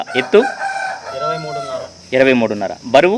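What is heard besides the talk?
rooster for sale, red-brown colour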